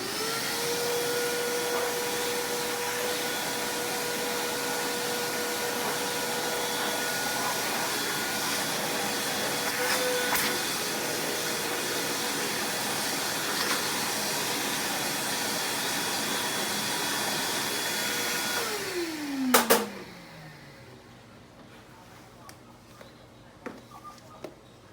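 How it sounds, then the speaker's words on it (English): Vacuum cleaner steadily sucking up shaved animal hair from a prepped surgical site, a loud continuous whine running about twenty seconds before it powers down and winds off, leaving quiet room tone. "Once I've got everything shaved, I'm going to vacuum all of the excess hair out of the way."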